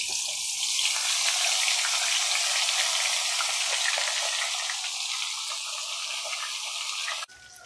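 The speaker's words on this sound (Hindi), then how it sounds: "चिकन को हम 5 मिनट एक तरफ से फ्राई करेंगे और 5 मिनट हम दूसरी तरफ से फ्राई करेंगे।" Steamed chicken sajji frying in hot oil gives a steady, loud hiss and crackle that holds for about seven seconds, then drops away sharply near the end.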